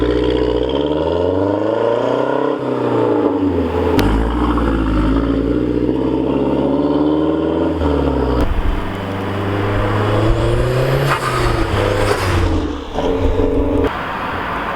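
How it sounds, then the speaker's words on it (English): A modified 300-horsepower 2013 Mazdaspeed 3 being driven, its loud exhaust droning and rising and falling through gear changes, with turbo whooshes and flutters as revs climb and drop, close up and continuous. "Another thing I really like about this car is when you drive, it just makes a lot of cool sounds, like the exhaust noises, the turbo noises"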